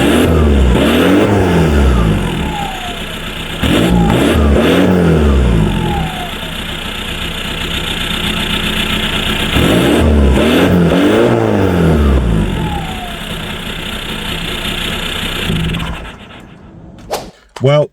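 A VW PD150 diesel with a straight pipe exhaust revs hard under boost in several loud, close bursts, each rising and falling back to a rough idle between them.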